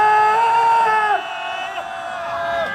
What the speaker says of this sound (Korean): 다시 한번 5초간 전방에 힘찬 함성 발사